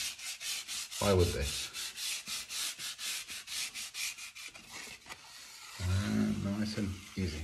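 Rhythmic rubbing strokes of sanding on a painted office wall surface, steady back-and-forth scraping repeated throughout at close range, with someone speaking briefly over it near the start and end.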